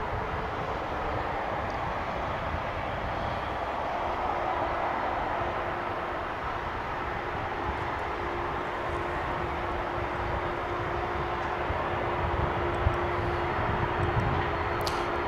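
A UPS heavy cargo aircraft crossing a runway at Dallas/Fort Worth airport produces a steady, distant jet engine roar, broad and even with no pauses.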